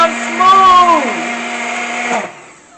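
A kitchen blender whirs steadily up close, its motor pitch dipping briefly as the load shifts, then running evenly before cutting off near the end.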